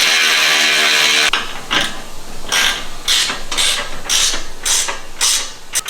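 Ratchet tightening the bolts of a Eurowise V1/V2 modular roof rack on a Porsche Cayenne or VW Touareg, close up: a run of repeated rasping clicks in short bursts after a steady hiss, with no talking.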